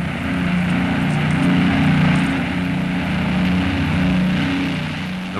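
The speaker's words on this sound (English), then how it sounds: "their unusually difficult takeoff from a short flight deck instead of the usual long runway ashore" B-25 Mitchell bombers roaring off the short flight deck of the aircraft carrier Hornet at sea in wind, a steady loud drone of piston propeller engines with a throbbing low hum, no voices.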